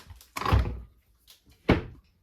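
A mirrored IKEA cupboard door moved indoors, two close, hollow wooden thunks about a second apart, with quiet between them.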